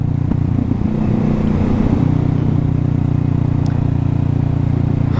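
A car cruising along the road, its engine droning steadily and loudly up close with a brief rev change early on, then a constant even hum with no talking.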